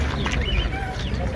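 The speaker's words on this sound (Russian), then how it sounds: "Голуби красавцы." Pigeons coo at an outdoor market fair, soft bird calls mixed with chirps amid a busy background of voices and general fair bustle.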